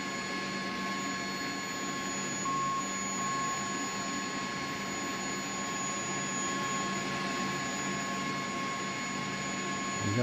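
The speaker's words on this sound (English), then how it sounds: "All right, let's get these engines going." Twin turbine engines of a CH-47D Chinook helicopter start up in the X-Plane 11 flight simulator: a steady, moderately quiet turbine whine and rumble with faint high tonal hums, holding evenly throughout with no talk.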